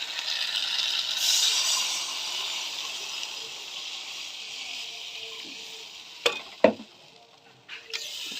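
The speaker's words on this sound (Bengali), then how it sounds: "ঝোলের জল দিয়ে দিলাম" Water poured into fried spice paste for rohu fish curry brings a loud hiss that slowly fades into a quieter simmer, followed by a few sharp clanks of a utensil against the pan.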